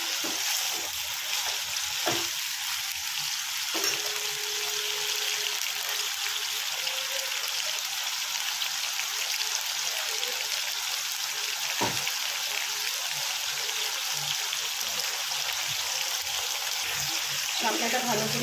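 Washed water lily stems fry in a pan over medium-high heat, giving a continuous soft sizzle and hiss with a few faint utensil clicks.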